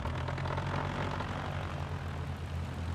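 A propeller engine on a BlackBox Simulations Bulldog aircraft in Microsoft Flight Simulator 2020 drones steadily with a low hum as a little throttle is applied, loud and continuous with no talk.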